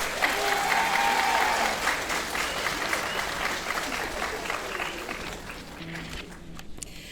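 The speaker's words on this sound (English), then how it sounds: "Let's give all of our awardees a round of applause." Graduation ceremony crowd applauding the awardees, dense sustained clapping that stays loud throughout and thins slightly toward the end.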